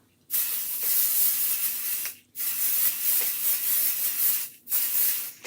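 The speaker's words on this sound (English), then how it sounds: "Let me go ahead and spray it real quick." Light tack adhesive sprayed from an aerosol can in short bursts, two long hissing sprays broken by brief pauses, close and fairly loud with no talk.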